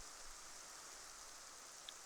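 Steady rainfall in the Minecraft video game, a soft, even hiss of falling rain that holds constant with no talk over it.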